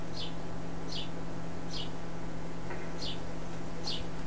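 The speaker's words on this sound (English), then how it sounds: "Pardon the random bird noises." Small birds chirp outside through open windows, a few brief high calls repeating about once a second over a steady low electrical hum indoors, faint and somewhat distant.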